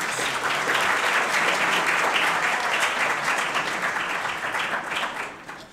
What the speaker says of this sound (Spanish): Aplaudir antes es peligroso.